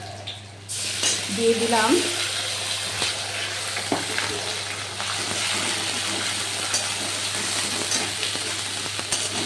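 Tomato and onion paste frying in a pan for a Bengali fish curry with potato and papaya, giving a steady broadband sizzle that runs throughout, with a brief spoken phrase near the start.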